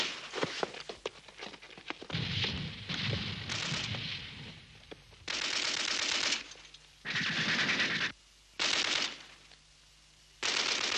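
Machine gun fire rattles in an audio drama scene with German soldiers, several long rapid bursts separated by short pauses, loud and close after a quieter opening stretch of rustling and clatter.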